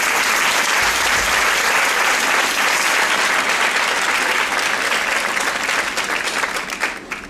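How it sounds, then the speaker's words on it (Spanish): Sustained applause from a large concert crowd, steady and loud throughout, thinning slightly toward the end. "Un aplauso para él."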